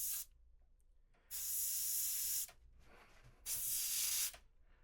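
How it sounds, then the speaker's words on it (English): An airbrush sprays a pink highlight paint in two long bursts of bright, steady hiss, each lasting over a second, with quiet pauses between them. The sound is close and there is no talk. "We'll just clean off the tip of the airbrush."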